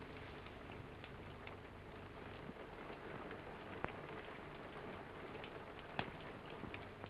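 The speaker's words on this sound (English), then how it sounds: "It's only the rain." Soft, steady rain patters faintly, with a couple of sharper drips or taps standing out against the hiss.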